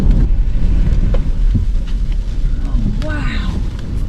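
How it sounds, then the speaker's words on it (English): Hail and rain pound a car during a storm chase near El Reno, a loud dense drumming and roaring wash on the body, with excited voices talking and shouting over it. "I ain't sitting in that hail."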